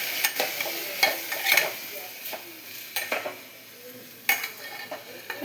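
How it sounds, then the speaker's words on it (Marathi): Rice and potato being stirred together in a hot frying pan: a steady sizzle with irregular scraping strokes and sharp metallic clinks of a utensil against the pan, fairly close and without talk. "भात आणि बटाटा मिक्स करून"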